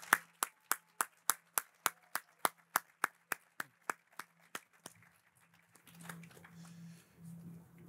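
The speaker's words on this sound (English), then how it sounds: "give all of our honorees and all of our nominees tonight a good round of applause, please." At an awards ceremony, a small number of hands clap in a sparse, even rhythm for about five seconds, then fade into quiet murmuring.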